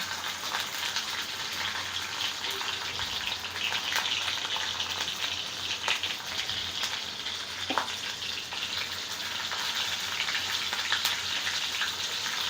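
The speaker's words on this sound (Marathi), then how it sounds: "आता इथे तेल गरम झालेलं आहे राई टाकते" Steady crackling sizzle of mustard seeds and green chili frying in hot oil, continuous and close, with occasional sharper pops.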